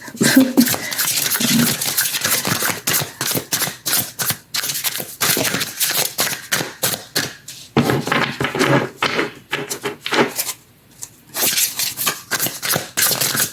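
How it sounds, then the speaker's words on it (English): Tarot cards being shuffled by hand, a long run of crisp riffling and flicking bursts with short pauses between, close and fairly loud with no talking. "I need to concentrate to shuffle on this deck."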